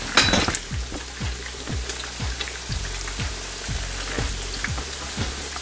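Pork sizzles as it fries in a clay pot, a constant hissing crackle broken by a regular series of scraping stirs about every half second, fairly loud and close with no speech.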